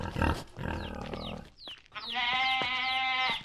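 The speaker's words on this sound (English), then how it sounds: "Jeez, the pig sounds so dangerous." Livestock in the survival video game No One Survived, a pig among them, makes loud, close bleating and squealing calls: a short burst, a brief gap, then a long sustained wavering cry.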